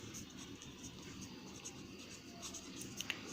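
Chalk or marker writing on a board during a maths lesson in a classroom, soft scratchy strokes with a few sharper taps near the end, faint against a quiet room hum.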